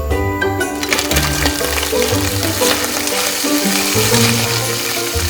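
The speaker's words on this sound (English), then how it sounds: "The sound of frying fat is very soothing." Steady, loud sizzling of fat frying in a pan, continuous crackle with some clinks and low rumbling underneath, no voices.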